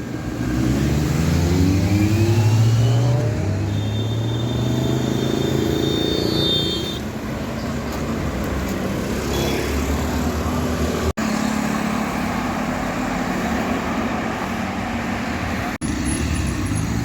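Kawasaki Z900 motorcycles of two generations pass by on a Mumbai street, a loud engine sweep rising and fading over steady traffic noise, with no talk.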